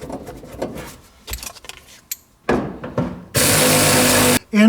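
Metallic clinks, taps and rustling as a bolt is fitted into the door hinge of a 1973-1987 Chevy truck, followed by short bursts of loud, broadband whirring like a power tool running.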